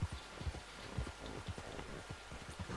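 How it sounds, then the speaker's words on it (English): Steady rain pours across the outdoor landscape of the video game Red Dead Redemption 2 while a horse's hooves clop softly through it, a dense, continuous hiss with scattered soft thuds. "You see the rain coming off of myself and my horse."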